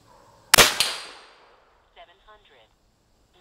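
A .457 Megalodon unregulated big-bore air rifle fires one sharp, loud report that rings briefly and fades, followed by soft quiet speech.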